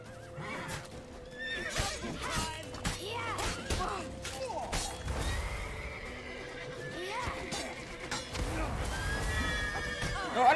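Horse neighs and whinnies from The Witcher 3 game, with hoof clatter and crashing sounds over busy game audio and music.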